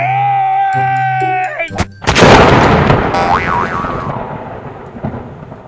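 A loud thunderclap bursts out during a thunderstorm, rumbling on for several seconds after a sharp onset, with a synthetic boing-like tone and voices beforehand.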